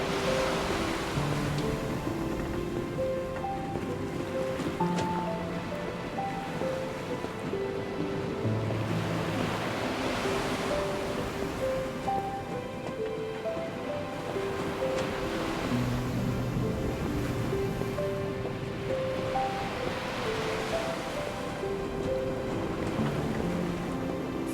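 Ocean waves surge and wash in a steady roar in the video game NieR Reincarnation, swelling in slow rhythmic crests beneath a continuous sustained musical score, without any talk.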